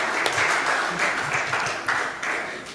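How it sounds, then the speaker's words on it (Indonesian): An audience claps in a hall for a provincial delegation at an organizational gathering, a dense wash of applause that swells in a few waves across the clip, fairly loud and without speech. "beri tepuk tangan buat Jawa Tengah"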